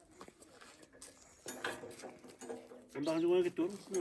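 Soft pigeon cooing mixed with voices speaking nearby, the cooing swelling louder toward the end.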